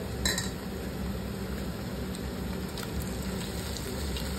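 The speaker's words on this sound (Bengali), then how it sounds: "এখন মাংসটা দিয়ে দেই এক এক করে। মাংসটাও একটু ভাজা ভাজা হোক" Fatty meat for biryani fries in a pot with browned onions, giving a steady close crackling sizzle like rain on a surface, opened by one brief utensil clink.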